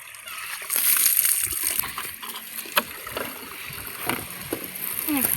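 Cold water splashes and sloshes outdoors, irregular scattered splashes at close range, alone with no voices over them.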